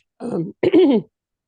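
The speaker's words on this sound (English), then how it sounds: "I got a little cough going today" Two short, rough throat-clearing coughs in quick succession, close and distinct, followed by silence.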